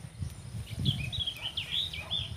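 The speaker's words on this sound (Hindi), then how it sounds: "मैं चिड़ियों की आवाज़ आ रही है कैसे इतनी वीआईपी" Several small birds chirp and twitter in short, high bursts in the early morning in a Pakistani village, over a low, steady outdoor rumble, fairly close and moderately loud.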